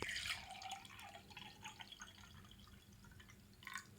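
Water trickles and drips into a drinking glass in a quiet whispered-ASMR setting, a soft, close, uneven pour with a few brighter splashes near the start and end.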